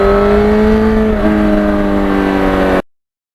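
A 1991 Yamaha FZR 1000 motorcycle runs hard on open road, its engine tone loud and steady before a brief gear change shifts the pitch, then ending abruptly.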